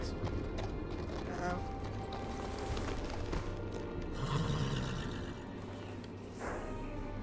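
A horse in the Game of Thrones video game gives soft clip-clopping hooves and a brief whinny, fairly faint beneath a continuous bed of game music and ambience, with a person talking over it.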